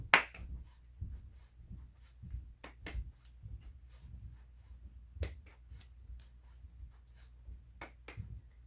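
Sharp hand claps and light scuffs of heels scraping a floor mark out a folk dance step, spaced in an uneven rhythm over a quiet room, close and fairly soft.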